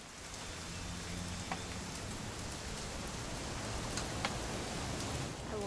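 Steady rain in the video game What Remains of Edith Finch, a dense even patter of drops with occasional sharper ticks, continuous and close throughout with no voices.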